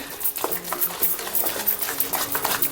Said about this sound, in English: Just mix everything. Make sure the flour is well mixed up in there.